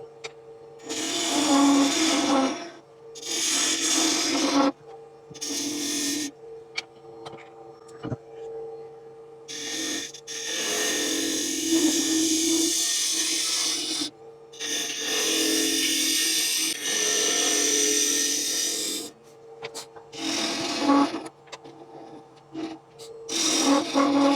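A bowl gouge cuts a small wooden cup on a lathe, giving bursts of rough, rasping scraping that start and stop repeatedly over a steady motor hum, close and fairly loud with no talk.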